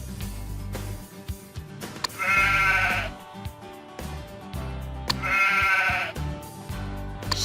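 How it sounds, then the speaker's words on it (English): Sheep bleating on a farm, two loud drawn-out bleats with a pause between them, heard alone over a low background with some faint thumps. "Sheep."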